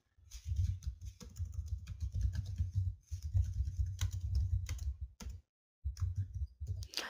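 Rapid keystrokes on a computer keyboard as a folder name is typed, dense bursts of clicking with a short pause near the end, close and clear with no talking.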